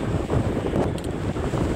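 Steady, loud wind buffeting the microphone on a ski resort quad chairlift on a snowy day, a continuous low roar with no voices.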